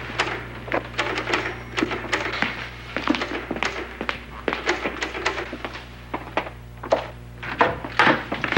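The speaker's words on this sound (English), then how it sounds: "Is that your typewriter?" Typewriter typing in a sitcom scene, rapid irregular clacks and thunks in bursts, fairly close, over a low steady hum with no talking.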